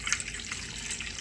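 Warm water poured into a bowl with yeast for bread dough, a steady close splashing stream without any talking.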